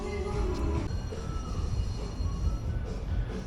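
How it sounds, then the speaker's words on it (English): A low, steady rumble of a train idling or rolling slowly nearby in a station at Plopsaland De Panne amusement park, with faint metallic noise and no clear voices. "There's a train in the station"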